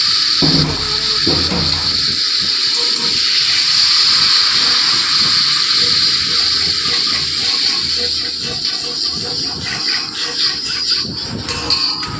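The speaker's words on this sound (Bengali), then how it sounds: "এবার দিয়ে দেবো জল" Water pours in a steady, loud gush into a pan of prawn curry during cooking, with a bright hissing sizzle running throughout and low bubbling underneath.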